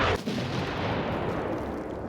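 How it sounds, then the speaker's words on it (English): A heavy, sustained roar of mortar fire and explosions in the combat video game Six Days in Fallujah, loud and dense throughout after one sharp initial blast, with no talk. "Those are the mortars?"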